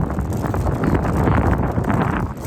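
Strong wind roars into the microphone while cycling along a riverside path, a loud, continuous buffeting rumble filling the clip with no speech.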